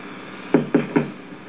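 Three quick knocks on a door, close and distinct against a quiet background.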